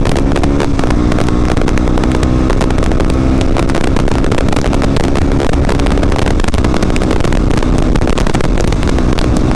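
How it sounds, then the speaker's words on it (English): Roaring wind noise buffeting a helmet-mounted camera on a motorcycle riding at speed, loud and constant throughout, with engine drone blended underneath and no voices. "inside the helmet the wind noise is mental"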